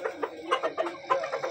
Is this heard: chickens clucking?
yes